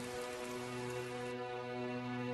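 Steady rain sound effect in an animated history lesson, a dense, even patter of rainfall with a constant hum beneath, continuous and moderately faint.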